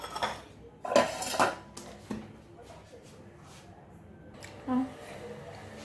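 Clinks and scrapes of utensils in a bowl while ingredients for ghriba cookie dough with flour and sugar are gathered and mixed, several loud knocks near one second, then quieter scraping and a bright clink near the end, close by.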